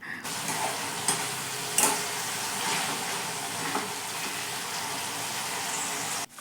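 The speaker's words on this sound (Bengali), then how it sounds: "আর এই দেখো আমাদের বিট গাজর ভাজা অলমোস্ট ডান" Beetroot and carrot fry in a pan with a steady close sizzle and occasional stirring scrapes, without any talking.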